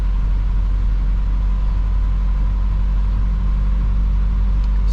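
Isuzu NPR diesel truck driving in second gear through a snowstorm, a steady low engine drone with a continuous rumble, close and even throughout, with no talking.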